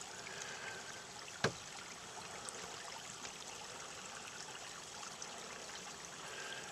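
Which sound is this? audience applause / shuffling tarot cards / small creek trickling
small creek trickling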